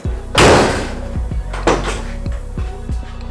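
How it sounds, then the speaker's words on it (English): A Trique door latch releases and the door swings open: two sharp mechanical clunks about a second apart, with small clicks and taps of the hardware following, close and loud with no talking. "It just goes and the door is open."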